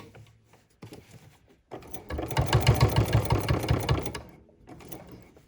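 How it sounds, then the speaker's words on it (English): A home sewing machine stitches fabric corner to corner on a Halloween trick-or-treat bag, first in short hesitant bursts, then a loud, steady two-second run of rapid needle strokes before slowing to a stop. "we're gonna stitch to the corner, corner to corner like this"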